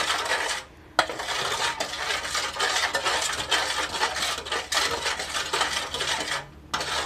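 A spoon stirs Thai khanom jeen noodle salad dressing, clinking and scraping steadily against a bowl in quick repeated strokes, with two brief pauses.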